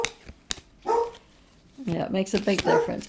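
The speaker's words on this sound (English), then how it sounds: "Sorry about the barking." A dog gives two quick, sharp barks close by, followed by a whimper-like sound and then people talking.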